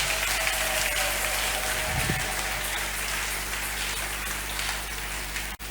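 A church congregation claps steadily throughout a worship service, a dense, continuous wash of applause that stays at an even level from start to finish with no speech on top.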